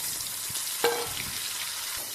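Dried fish (karuvadu), rubbed with turmeric, chili powder and a little salt, frying in hot oil: a steady, close, bright sizzle with one sharp pop near the start and no voices.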